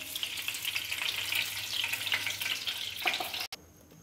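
Refined oil hissing and sizzling steadily in a hot pan, close and continuous, before the sound cuts off abruptly near the end.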